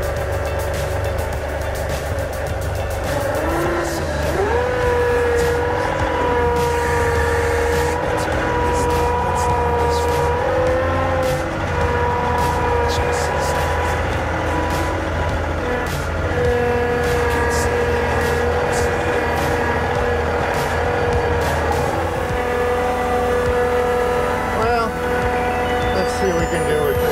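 A John Deere 2038R compact tractor engine runs steadily and loudly, with a constant low rumble and shifting tonal whines that rise and settle. Speech is heard over it at times.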